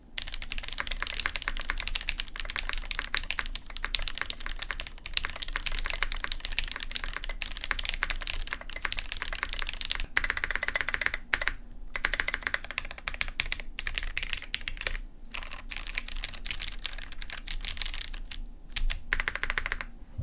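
Steady, close-up typing on a prototype ZoomTKL Dyna mechanical keyboard with Nixie switches, a carbon fiber plate and a 1.6 mm PCB. Dense keystrokes clatter continuously for about twenty seconds with no voices.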